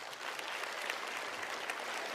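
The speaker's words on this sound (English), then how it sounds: "Big round of applause." Steady audience applause fills the room, a dense, even wash of clapping from a crowd at a talk or presentation, with no voices over it.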